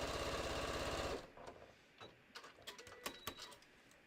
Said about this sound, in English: I'm just quickly quilting this just so I can show you how to put it together.